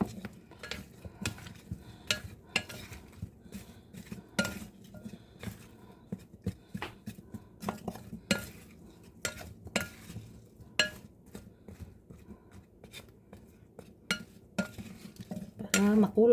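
Stirring food in a pan while preparing baked chicken at home, heard as soft repeated scrapes and light clinks of a utensil against the cookware at moderate distance, with a faint low hum underneath and no talking.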